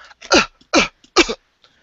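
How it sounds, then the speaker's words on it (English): Three harsh, close coughs in quick succession, each short and forceful, separated by brief pauses. "I'm coughing into my hands"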